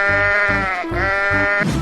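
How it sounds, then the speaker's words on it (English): A sheep bleats twice in quick succession, two wavering cries that are loud, near and clear, with no talking. "sheep,"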